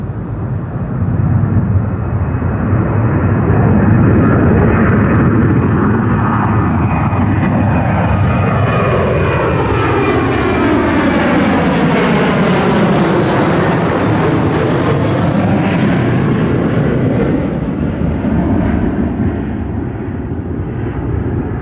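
A TUI Boeing 737 airliner rotates off the runway at London Gatwick and passes overhead, its jet roar loud, broad and continuous, swelling and sweeping in pitch as it flies over before easing slightly.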